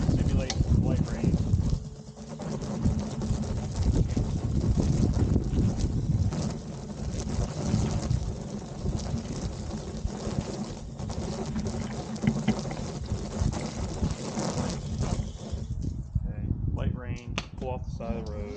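Water sprays steadily onto a Kemi Moto large motorcycle tail bag to mimic light rain, a dense, continuous hiss and patter lasting throughout, with a brief dip early and the spray tapering near the end.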